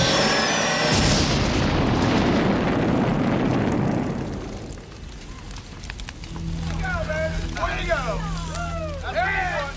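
A sonic bore weapon fires in a 1993 science-fiction film, a huge roaring blast that fades over several seconds, followed by a low mechanical hum and warbling tones.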